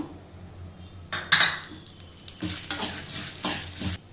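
Dried red chillies fry in a pan for tomato chutney while a spoon stirs them, a soft sizzle broken by sharp scrapes and clinks of metal against the pan, a few separate bursts close by.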